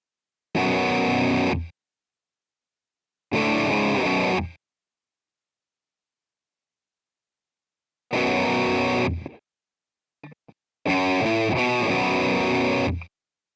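Distorted electric guitar riff mixing single-string notes and power chords, played in several separate loud bursts with silent gaps between them and a few short stray notes, no talking.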